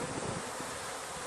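Aggressive honey bees buzzing around the hive, a dense, continuous close hum of many wings, loud and unbroken over a brief moment.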